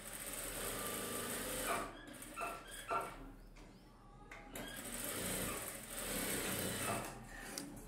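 A sewing machine stitches around a blouse lining in steady running bursts with brief stops between them, heard close and at a moderate, fairly quiet level.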